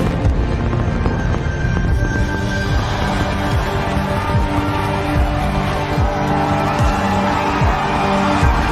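Loud, continuous roar of a SpaceX Starship rocket at launch and ascent, a dense broadband rumble sustained throughout with steady crackling texture and no voices.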